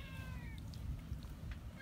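A cat gives a short, close meow at the start over a low rumbling background, followed by faint scattered ticks and rustles.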